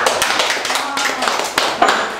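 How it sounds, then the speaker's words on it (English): Audience at a Toastmasters club meeting applauding: dense, continuous hand clapping from a room of people, steady throughout with a few sharper claps standing out. "Another round of applause."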